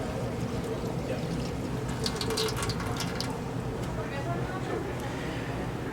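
Water runs steadily from a tap over gloved hands being rinsed, a continuous splashing pour with brief louder bursts midway, close, and a voice speaks over it.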